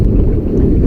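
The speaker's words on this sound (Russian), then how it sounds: "Ветер дует." A short burst of wind roaring into the microphone, loud and low, with no voices, outdoors on a river while floating downstream fishing for grayling.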